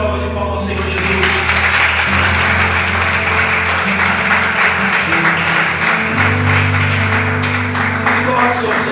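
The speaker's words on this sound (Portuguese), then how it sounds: "Quem pode dar uma linda salva de palmas ao Senhor Jesus?" A church congregation breaks into steady applause during a service, a dense wash of clapping that goes on for several seconds over a sustained background tone.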